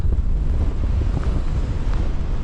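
Strong 30 mph wind buffets the microphone on a hillside hike in the Scottish Borders, a loud continuous low rumble with gusty roaring pulses and no voices.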